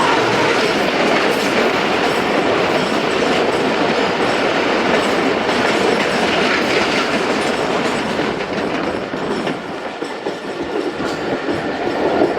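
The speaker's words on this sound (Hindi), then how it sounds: "सामने से आ रही है 42 डाउन कराकरम एक्सप्रेस" The Karakoram Express passenger train roars past up close, a steady loud rush of wheels and rattling cars with clickety-clack rhythm running the whole time.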